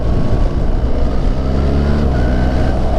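A BMW R1300GS motorcycle accelerates hard, its engine a loud, dense low roar with rising tones, heard close and steady over three seconds with wind noise and no talking.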